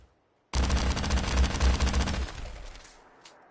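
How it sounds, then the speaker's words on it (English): A solar cannon in Fallout 4 fires a sustained, loud burst of rapid rattling shots that starts abruptly, holds for about two seconds, then tails off into a fading echo. "Well, here's solar cannon."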